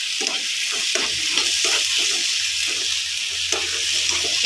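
Chinese sausage fries in a pan with water, giving a dense, continuous sizzle with bubbling pops throughout, close and steady with no talking.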